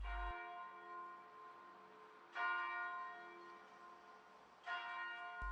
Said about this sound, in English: As the bells ring out from atop the town steeple